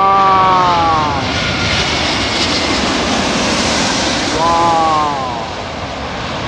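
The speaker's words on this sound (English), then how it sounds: "British Airways going over my head." A British Airways airliner passes low overhead near a London airport, its loud engine roar broad and steady throughout, with a short exclamation from a bystander partway through.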